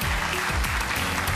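Studio audience applause on a televised Turkish dance competition show, a steady dense wash of clapping, fairly loud and continuous throughout, with a faint voice briefly underneath.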